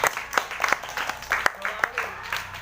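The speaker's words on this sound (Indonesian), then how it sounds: "Kasih tepuk tangan ya." Children clapping hands for a classmate at a sixth-grade long jump session: uneven, scattered claps in irregular bursts, fairly close, mixed with chatter and voices in the background.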